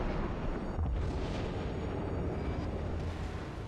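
Gun salvo from the destroyer Isokaze in World of Warships, a dense continuous roar of heavy firing and rumble sustained across the whole stretch, with a stronger low boom near the start.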